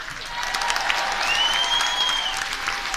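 An audience on a cruise ship applauds the crew at a farewell gathering, steady dense clapping throughout, fairly loud and close, with a faint whistle riding over it.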